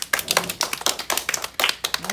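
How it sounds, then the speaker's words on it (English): A short burst of applause in a classroom phonics lesson, several people clapping quickly and unevenly, fairly close, with a voice mixed in. "Everyone give her a round of applause."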